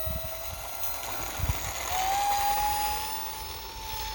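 UMX Viper 30mm RC micro jet with its electric ducted fan on a maiden flight, a steady whining hum that rises in pitch as throttle comes up, heard at a moderate distance outdoors.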